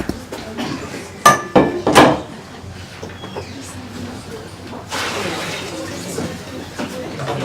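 Metal saucepan knocked and set down in a home kitchen while cooking, a few sharp clanks early then softer handling and a hissing swell, close by.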